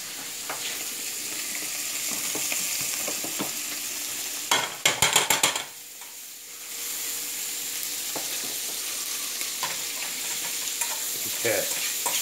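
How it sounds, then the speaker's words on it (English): Pancake batter fries in butter on a hot griddle, giving a steady, close sizzle that runs throughout. A brief clatter of utensil taps breaks in midway, and a short softer lull follows before the frying resumes. "Put another round of pancakes in."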